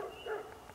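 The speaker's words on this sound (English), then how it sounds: "Why is that dog on?" A dog barks in the distance at Lake Shawnee, giving a brief, faint yelp-like bark that is quickly over, with low ambient noise around it.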